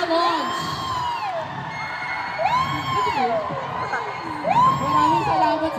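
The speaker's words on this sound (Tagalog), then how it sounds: "Maraming salamat sa hiyawan, sa palakpak" Crowd at a university media launch shouting, whooping and cheering in loud swelling waves, with high excited voices rising in three bursts over a constant roar.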